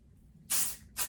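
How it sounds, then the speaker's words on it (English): Two quick hisses of Triple Sec 3-in-1 finishing hair spray from an aerosol can, a longer burst followed by a short one, close and crisp. "we're just going to use some of this Triple Sec 3-in-1 finishing spray"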